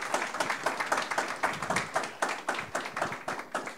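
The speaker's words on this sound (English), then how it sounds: "Give another round of applause for the Postcards team." An indoor audience at a Scandinavian Sunday preview and Q&A for the Postcards team applauds steadily, dense hand clapping with loud, rhythmic peaks filling the room, no talking heard.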